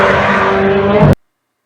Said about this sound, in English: I'll just throw up a quick screenshot so you can hear how this sucker sounds